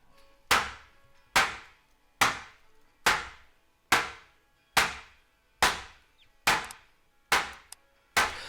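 Mixed hand claps treated with Ocean Way Studios room reverb at mid and far distances, ten evenly spaced sharp claps each trailing off in a short natural room decay.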